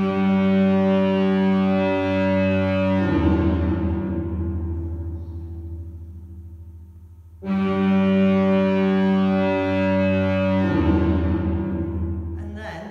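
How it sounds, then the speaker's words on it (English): Old foghorn of Portland Bill Lighthouse sounding two long, loud, deep blasts, each a steady low droning tone held for about three seconds before ringing away into echoing decay, with no talk over it. "On the tour, you get to see the workings of the old foghorn."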